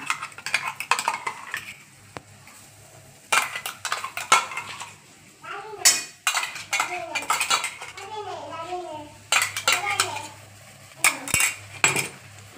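Tomato and coriander paste goes into a cooking pan and is stirred, with a metal spoon clinking and scraping against the pan in bursts while voices talk nearby.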